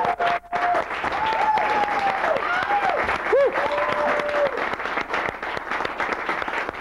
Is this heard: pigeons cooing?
no